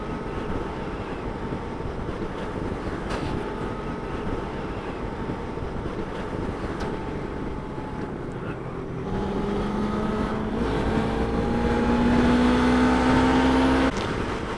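A 2018 Suzuki GSX250R motorcycle engine hums under heavy wind rush while riding, its steady drone rising in pitch toward the end as the bike accelerates, then dropping back.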